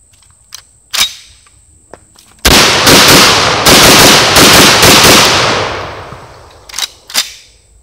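An SDS Lynx 12 shotgun fired with its dust cover off: a couple of sharp single reports, then a loud rapid string of blasts lasting about three seconds, followed by two more isolated shots, close and sharp.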